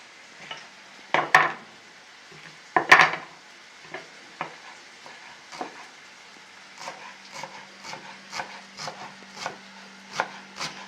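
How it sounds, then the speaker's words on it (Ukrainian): A knife chops fresh dill on a board: a few sharp knocks, then a run of lighter irregular taps, close by, over a low, steady hum from a pot stewing on the stove. "нарізаємо кріп"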